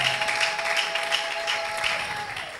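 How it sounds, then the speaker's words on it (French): A church congregation breaks into sustained applause during a French-language service, steady dense clapping filling the room at moderate volume with a faint tone underneath and no talk. "Acclamons pour la gloire de notre Dieu, de notre Seigneur"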